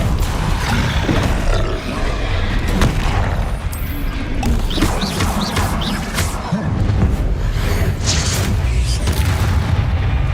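Combat spells go off in Hogwarts Legacy, producing a stream of booming magical blasts and roaring impacts. The bursts overlap densely, loud and continuous, with game sound effects filling the mix.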